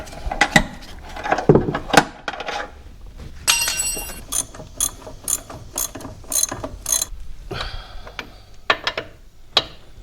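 A hand ratchet snugs down the wheel bolts on a Jeep WK, producing repeated runs of crisp pawl clicks in short strokes, close by, with brief pauses between pulls.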